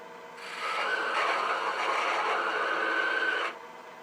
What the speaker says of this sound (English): We're going to turn the lathe on for this one